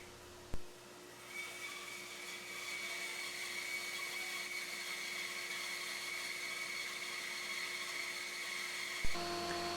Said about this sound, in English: My 13-inch rigid planer is a fairly basic planer in that it just has straight cutting blades.